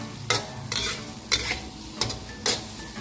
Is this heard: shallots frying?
yes